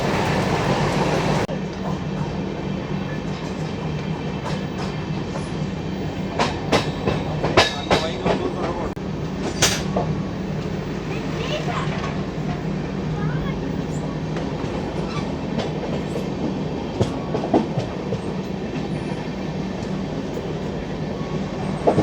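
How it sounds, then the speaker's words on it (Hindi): The Garib Rath express rolls by on the tracks near a trackside crossing, a long, loud rumble with repeated clickety-clack wheel joints and sharp metallic squeals and clanks, steady throughout and nearby. "ट्रेन निकल चुकी है।"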